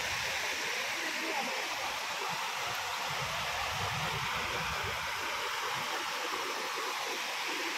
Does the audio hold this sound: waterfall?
yes